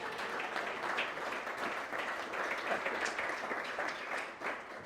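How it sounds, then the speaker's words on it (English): Audience at a business sustainability awards event giving a round of applause, steady and fairly faint clapping from a moderate crowd, continuing throughout with a slight dip near the end. "please give a round of applause."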